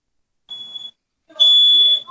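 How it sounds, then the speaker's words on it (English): A smoke alarm beeps in two piercing electronic bursts, a short tone followed by a longer, louder one, close by with little else around it. "I'm so sorry, the alarm's just going off"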